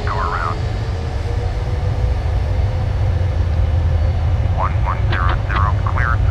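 A PMDG 747-400 landing at Chicago O'Hare in the FSX flight simulator produces a loud continuous low engine rumble and airflow drone, with brief warbling cockpit tones near the start and end; a voice is faintly present.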